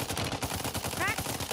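A single rifle shot cracks out in a video game amid a constant wash of dense gunfire and game noise, with players chatting faintly over voice comms.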